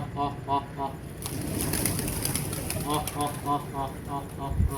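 Pigeons coo in repeated low throaty bursts over a noisy background, with a short stretch of rustling or wing flutter in the middle.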